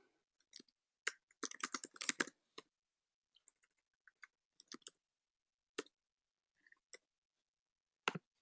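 Fast typing on a computer keyboard, quiet and close, with scattered key clicks followed by a rapid burst of keystrokes and then sparser taps, with no talking.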